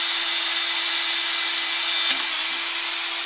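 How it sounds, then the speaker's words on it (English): Power drill boring out a stainless steel adapter, a loud, continuous whirring drone held close and steady throughout, with one brief dip as the bit bites. "What we're doing here is we are drilling out the adapter and stainless steel."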